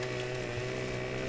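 A chainsaw in the farming video game Landwirtschafts-Simulator 2015 delimbs a felled tree, giving a steady, buzzing engine drone at even pitch, heard alone and fairly quiet.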